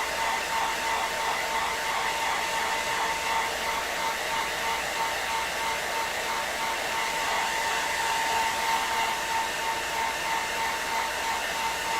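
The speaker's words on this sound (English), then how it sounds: "Hair dryer." A hair dryer blows continuously during a Borg costume restoration, a steady loud whirring roar with no pauses and no talk over it.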